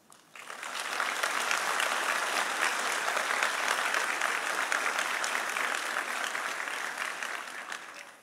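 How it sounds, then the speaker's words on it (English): Sustained audience applause for staff at a summer business school commencement ceremony: a broad, even wash of many hands clapping that swells in quickly, holds steady for about seven seconds and then eases off. "I'd like us to give a simple round of applause to our staff who are standing here today"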